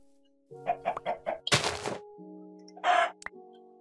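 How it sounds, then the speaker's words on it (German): A Minecraft chicken gives a few short clucks in quick succession, then a burst of flapping noise and a brief squawk, with a steady synthetic hum underneath. "dann halt noch so ein dämliches Huhn"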